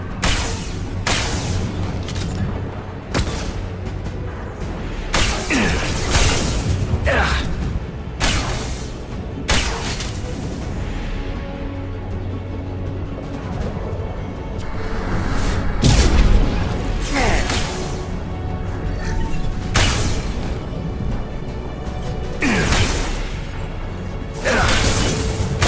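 Flashbang grenades and combat noise in Mass Effect 2 at the Shadow Broker base, a dense run of sharp bangs, pops and crashes over continuous rumbling action, with some voices in the mix.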